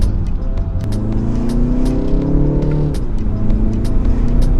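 A BMW G20 330i's B48 engine with a Dinan aftermarket intake revs and hums loudly, pitch rising and dipping under steady road rumble, with sharp clicks and ticks scattered throughout.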